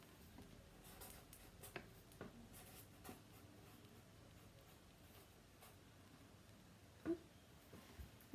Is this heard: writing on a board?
yes